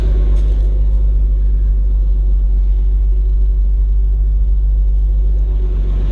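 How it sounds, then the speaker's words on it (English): A Jeep Comanche pickup engine idles steadily, a little high, with a deep, constant rumble and no voices, running smooth and even throughout. "Listen to this Comanche, man. Listen how good it's running now."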